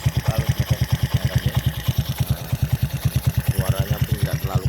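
Close up, a Honda Supra X motorcycle engine idles with an even, quick thumping beat, smooth rather than rough, that holds steady throughout.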